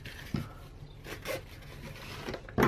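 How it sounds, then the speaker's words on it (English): Gold-trimmed spruce-green ribbon is pulled through the holes of a paper gift bag, making soft, brief zipping scrapes and rustles with a louder rasp at the end. "I'm going to thread through my Shaded Spruce trim"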